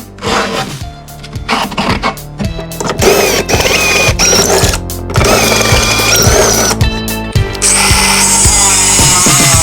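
A power tool cuts a metal bracket for a DIY oil cooler install on a 180SX, running loud and continuous with a harsh, gritty whine that surges and shifts pitch over several bursts.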